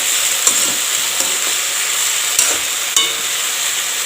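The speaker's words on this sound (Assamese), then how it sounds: "এতিয়া অলপ সময় মই এনেকৈ ভাজি থাকিম" Tamarind jelly frying in a pan with a steady sizzle throughout, broken by a few sharp clicks and scrapes of stirring against the metal, close and fairly loud with no voices.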